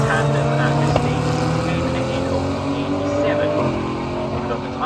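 GT race cars on the circuit at British GT Championship pre-qualification, two Blackthorn cars running in tandem, with a Lotus also lapping; a steady engine drone with shifting pitch runs throughout under commentary.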